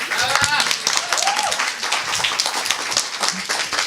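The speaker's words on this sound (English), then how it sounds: "Give her a big round of applause." Applause and clapping from an audience welcoming a guest onto a talk-series stage, a dense steady wash of claps filling the whole stretch with some voices and cheers mixed in.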